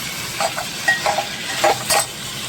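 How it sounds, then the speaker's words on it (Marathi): Potato, cauliflower and peas fry in oil in a pan, soft sizzling with several short scraping stirs spaced across the stretch, fairly quiet and close, no voices. "छान बटाटा फ्लावर वाटाणा असा तेलावर छान फ्राय झाला की भाजीलाही चांगली चव येते"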